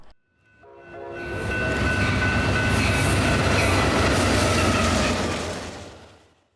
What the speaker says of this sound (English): up comes Amtrak number 3, the westbound Southwest Chief